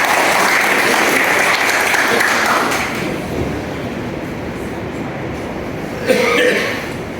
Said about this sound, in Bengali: সুতরাং আমরা কি আবার একটা হাততালি দিতে পারি?